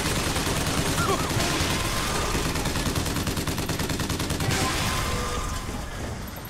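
Rapid gunfire from a weapon in the video game BioShock Infinite, with dense bursts of repeated shots across most of the stretch, loud and close, easing toward the end while a voice talks underneath.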